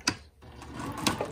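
A sewing machine stitching a fabric mask, with two sharp mechanical clacks bracketing a short run of whirring stitches, close and moderately loud.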